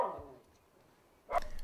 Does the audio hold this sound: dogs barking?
yes